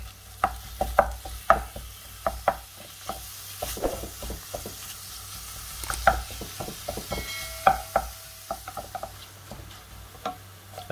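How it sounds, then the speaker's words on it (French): Minced meat and cooked onion in a pan, stirred with a utensil that knocks and scrapes in irregular clicks over a faint sizzle, close and fairly quiet, with no talk. "l'oignon est cuit, on va rajouter la viande hachée et on va la faire cuire."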